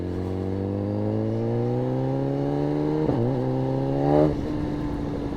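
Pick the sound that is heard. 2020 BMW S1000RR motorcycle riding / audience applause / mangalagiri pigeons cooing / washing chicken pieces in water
2020 BMW S1000RR motorcycle riding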